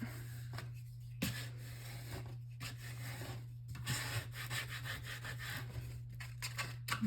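Paper is burnished flat onto a 6x6 Halloween scrapbook album page with repeated soft rubbing and scraping strokes, quiet and close, each stroke a short rasp over a low steady hum.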